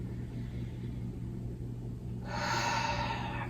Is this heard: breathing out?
yes